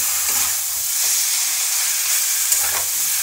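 Cabbage stirred into cooked masala in a pan for a sattvik sabzi gives a bright, steady frying hiss with a few muffled stirring scrapes, close and even throughout.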